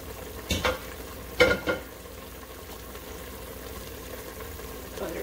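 Browned pork belly and its rendered fat land in a pan with a few loud clatters, then sizzle and fry quietly underneath.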